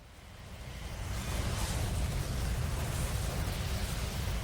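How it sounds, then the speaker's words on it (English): Explosions in the superhero video game City of Heroes during a team battle: a sustained, dense rumbling roar with booming low end that swells after the first second and holds steady, no distinct individual blasts. "Explosions."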